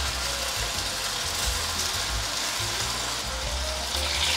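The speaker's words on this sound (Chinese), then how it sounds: "放入过滤水" Filtered water poured into a hot pan of sizzling stir-fry with vegetarian chicken spread flat, giving a loud, steady frying hiss and bubbling throughout with no one speaking.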